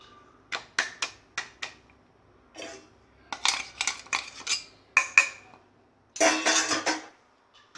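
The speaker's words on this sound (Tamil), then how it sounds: "இப்போ இது ரெண்டையும் ஒன்றா மிக்ஸ் பண்ணிக்கிடுவோம்" A spoon or utensil clinks and scrapes repeatedly against a metal bowl while roasted gram powder and grain powder are mixed together, producing sharp, close, irregular taps in bursts, with quiet pauses between.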